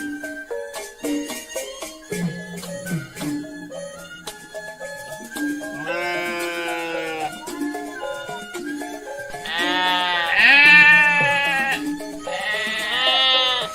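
Goats bleat at a livestock market where cattle are also kept. Several animals call over one another in overlapping wavering cries, some close and loud, and the calls get louder and more crowded toward the end.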